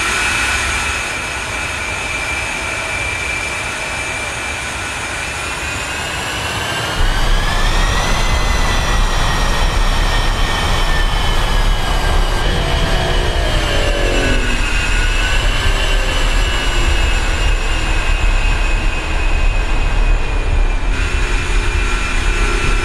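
An A-10C jet taxiing in the DCS flight simulator, its engines giving a loud, continuous whine and roar with steady high tones that rise slightly, and the rumble stepping up partway through.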